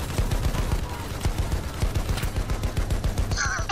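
Continuous rapid turret gunfire in Battlefield 1 rattles loudly throughout, dense bursts of automatic shots with a brief electronic tone near the end.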